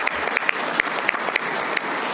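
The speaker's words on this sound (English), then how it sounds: "Another round of applause just to thank you." Scattered audience clapping at a city commission meeting, a sparse patter of individual claps over a steady hall hiss, with no talking over it.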